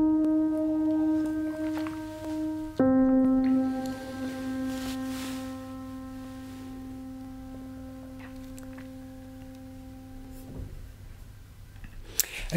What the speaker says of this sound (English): And the choir samples sound like this.